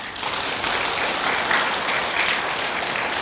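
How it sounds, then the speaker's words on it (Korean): A church congregation applauds during a Sunday worship service, a dense, even roar of many hands clapping together with no voices over it. "박수도 지금 한번 쳐볼까요?"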